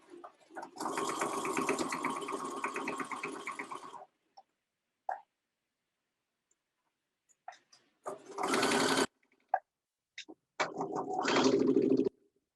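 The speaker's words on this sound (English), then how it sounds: "I'm going to put my needle down first so I can get nice and close to that seam, and then we'll do our edge stitch" A sewing machine edge-stitches a seam on a lined dress, running in a steady whir for several seconds, then stopping, then running again in two shorter bursts with quiet pauses between.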